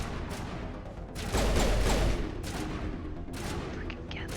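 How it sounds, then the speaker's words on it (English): Gunfire during a Mass Effect firefight, with repeated shots and a heavier burst midway over dense in-game combat noise. "Am I getting shot? Or is that just Caden shooting me through the wall?"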